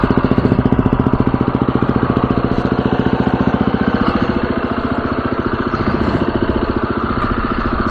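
A Husqvarna FE350s dirt bike engine running after modifications, a loud, steady, rapid thumping pulse held close throughout with no talk.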